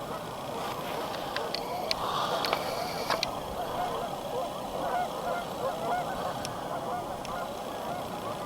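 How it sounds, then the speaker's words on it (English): Geese honk repeatedly along a river in the distance, their calls layered over steady outdoor rumble and wind, with a few sharper calls standing out now and then. "There's actually quite a bit of goose activity out here along the river."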